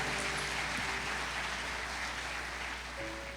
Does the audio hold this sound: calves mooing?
no